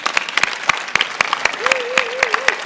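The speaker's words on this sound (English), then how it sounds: "Yeah, let's applaud them first." An audience at a games event claps in a burst of sharp, irregular applause, close and fairly loud, with a brief voice heard over it.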